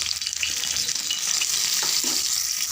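Fish sizzling in a little oil on a tawa, a dense, loud, steady frying hiss close up with faint scraping and no talk.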